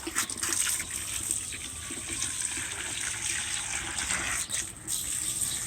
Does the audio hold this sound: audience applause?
no